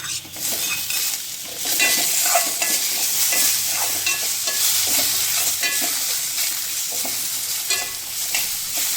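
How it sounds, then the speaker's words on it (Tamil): Tomatoes and onions fry with curry leaves in a pan, giving a steady close sizzle with frequent scraping stirs over the whole stretch and no talking. "தக்காளி நல்லா வதங்கட்டும்"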